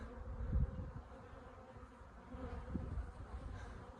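A honeybee swarm buzzes outdoors with a low, continuous drone, fairly faint and distant, swelling and easing slightly, with a few louder passes near the start and no talk.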